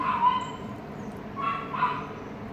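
A puppy from a house below yips and barks a few times at a distance, thin high cries standing out faintly against steady background noise.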